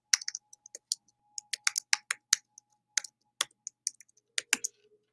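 Fast typing on a computer keyboard, with dense bursts of crisp key clicks in quick irregular runs, close and fairly quiet, broken by short pauses.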